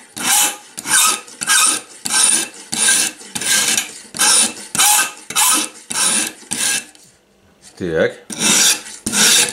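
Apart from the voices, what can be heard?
sharpening scissors on a homemade sharpener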